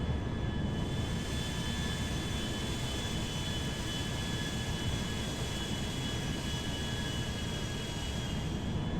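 Boeing 737 MAX 9 jet engines in a GTA 5 flight mod give a steady, loud, continuous roar with a constant whine running through it, holding even for the whole stretch with no talking.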